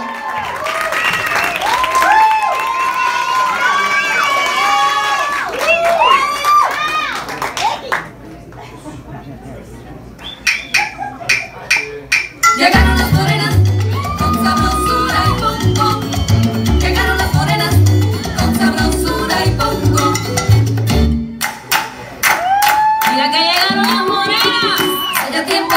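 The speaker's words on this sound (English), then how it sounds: "We have this amazing team, Las Bonitas. Give them a round of applause, guys." An audience applauds the dance team Las Bonitas at a charity event at Stevens Steakhouse. The clapping is mixed with lively music, crowd chatter and an announcer's voice, and it swells and fades throughout.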